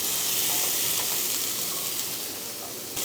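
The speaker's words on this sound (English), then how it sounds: "Now I'm gonna add my sweet potatoes and apples, and I'm gonna cook them until they're tender." Sweet potatoes and apples fry in a skillet, giving a steady close sizzle and hiss that holds for a few seconds, alone without any talk.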